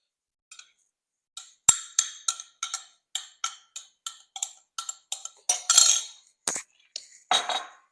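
A utensil stirs BBQ beef and vegetables in a pan over low heat, making a rhythmic series of sharp metallic clinks and scrapes, about a dozen close, crisp strikes spaced roughly every half second.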